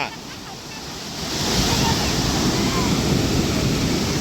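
Surf at Vengurla Beach rushes and breaks in a steady roar that swells louder partway through, with wind buffeting the microphone.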